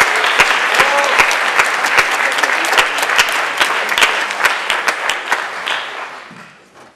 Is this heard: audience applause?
yes